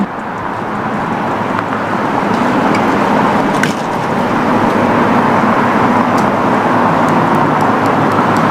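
A police car drives past in St. Augustine, a loud, steady roadway rumble and hiss that swells slightly toward the end, with faint higher clicks and no talking.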